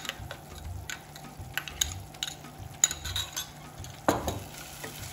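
Tomato paste stirred into fried onions in a pan for a Konkani fish curry, a low sizzle under repeated scraping strokes and light utensil clinks, with a louder hissing burst near the end and no talking.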